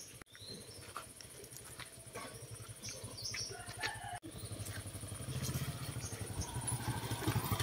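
A motorcycle engine puttering along a rocky forest road, a low rhythmic chug that grows gradually louder and rougher toward the end, with faint bird chirps above it and no talk.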